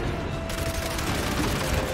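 Dense, continuous gunfire from the video game Gears 5, rapid shots blending into a loud steady rattle throughout.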